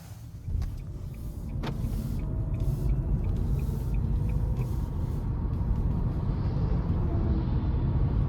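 A 2023 Nissan Leaf S electric car pulling out onto the road, a steady low rumble of tyres and cabin hum building after a few soft clicks and a thump, close and even.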